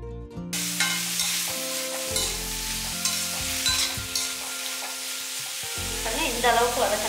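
Loud, continuous sizzling of yellow pumpkin pieces stir-frying in a pan for pumpkin poriyal, with scraping stirs and a low hum underneath, close and steady throughout.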